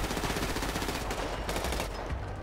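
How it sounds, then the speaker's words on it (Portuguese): Rapid automatic gunfire in a GTA 5 roleplay shootout, dense continuous bursts at steady loudness with no talk over them. "Quem é que tá dando tiro?"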